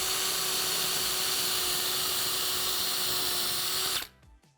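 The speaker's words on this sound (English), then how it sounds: "I'm going to drill some pilot holes" A power drill drilling pilot holes in wood whines steadily at high speed for several seconds, then winds down and stops.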